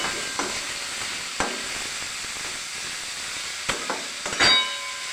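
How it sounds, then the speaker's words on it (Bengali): Maggi roll filling with chillies fries in a pan, giving a steady loud hiss and sizzle punctuated by a few sharp spatula taps and scrapes, with a brief metallic clatter near the end. "এরপরে একটু নেড়ে চেড়ে নেবো, এগুলো ভালো করে ভেজে নেবো।"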